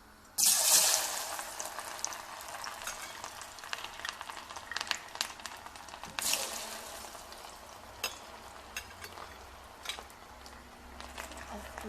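Potatoes fry in oil in a pan, giving a loud crackling sizzle that surges at the start and again midway, then settles into a steady bubbling hiss.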